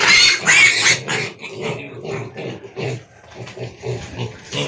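Newly bought piglets at feeding time squeal and grunt loudly and close by, with the noise coming in overlapping bursts throughout.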